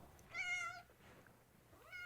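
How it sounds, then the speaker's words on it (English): A cat meows twice, faint and somewhat distant, with a quiet pause between the two calls and a soft hush of background noise underneath. "A cat meowing?"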